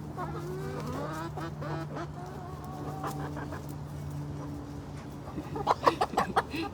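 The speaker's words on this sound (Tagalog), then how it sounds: "Ang takaw-takaw talaga ng mga manok, eh." Farm chickens cluck steadily while feeding, with several overlapping calls and a louder, busier burst of clucking near the end.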